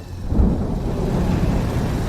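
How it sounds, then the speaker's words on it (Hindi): A low, rolling rumble of thunder swells over a steady wash of rain in a dramatized horror story, the storm dense and continuous without any voices. "बारिश शुरू हो चुकी थी"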